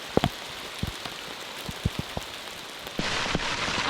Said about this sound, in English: Unbelievable hailstorm, guys.